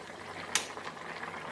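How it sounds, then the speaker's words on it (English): Beef roast sauce bubbles in an open pan, a soft low simmering with faint pops and one brief sharp sizzle near the start, quiet throughout. "So now I will just cook this open pan till the sauce becomes thick"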